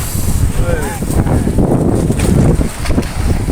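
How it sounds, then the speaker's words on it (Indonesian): Tornado-force winds in Cilegon roar loudly and continuously, buffeting the microphone, while people's voices and a brief shout rise over the gusts. "Puting beliung di Cilegon."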